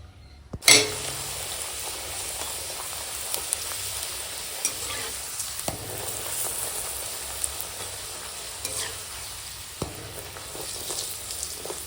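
Peas-filled kachoris fry in oil in a pan with a steady, even sizzle throughout, broken by a few faint clinks of a utensil against the pan.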